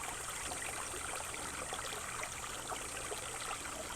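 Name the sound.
mountain brook flowing down over volcanic rock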